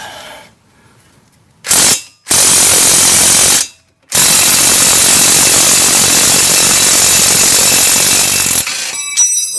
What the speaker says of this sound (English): get your impact gun or another wrench. Take it out.